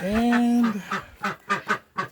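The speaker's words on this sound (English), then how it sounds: "You two ducks, move it along." Two ducks quacking close by on a farm near a chicken coop, a few short harsh calls in a loose rhythm, with a brief word spoken.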